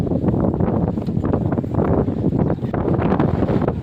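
Steady, loud wind buffeting the microphone outdoors, a continuous rough roar with gusty swells and no voices.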